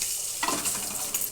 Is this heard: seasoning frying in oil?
yes